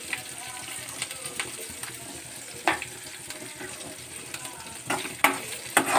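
Green chillies sizzle in hot oil in a pan with salt, frying steadily at low heat, with occasional sharper crackles and stirring clinks standing out over a constant hiss; no talking.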